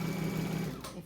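A sewing machine stitches a craft bag with a brief, quiet, steady whirring run that stops with a small click just under a second in.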